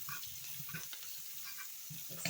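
Beef liver sizzling and browning in a seasoned pan, a steady close fry broken by soft scraping and stirring knocks, with a sharper clatter near the end and no talk.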